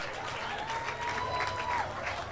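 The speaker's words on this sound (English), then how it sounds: "Give him a round of applause, Ford fans." A grandstand crowd applauds at an outdoor modified 4x4 tractor pull, with a sustained whistle or tone and background crowd noise under the clapping.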